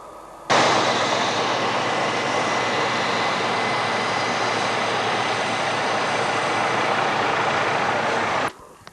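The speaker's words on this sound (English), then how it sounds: "At the moment we have a look at the Iroquois Chopper that's just flying around overhead." An Iroquois helicopter flying overhead at McMurdo Base in Antarctica, a loud, steady engine-and-rotor roar that starts abruptly, holds at an even level for about eight seconds and then cuts off.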